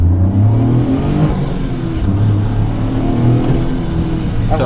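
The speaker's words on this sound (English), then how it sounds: "it sounds like the way that it surges is different than the stock way" Toyota GR Corolla engine surging steadily under acceleration with its first bolt-on mod, a loud, continuous close-up drone with wavering low harmonics and no talk over it.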